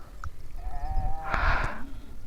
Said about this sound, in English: I don't know whose sheep.